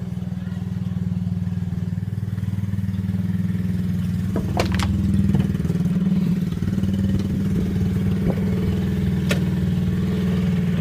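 A dirt bike engine hums at a steady, low drone throughout. Midway there are a few brief clicks and knocks, but there is no strong revving.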